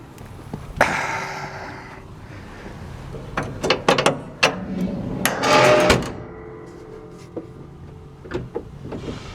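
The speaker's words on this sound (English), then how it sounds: "now the hood latch operates as it should" Hood latch on a John Deere 310G backhoe, freshly repaired with a new bolt, working in a series of sharp metallic clicks and clacks, near and fairly loud, with a brief rattling scrape in the middle.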